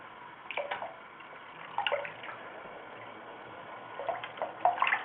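Tap water runs steadily into a basin while a pet parrot is bathed under it, a soft continuous hiss with faint splashes and drips rising and falling.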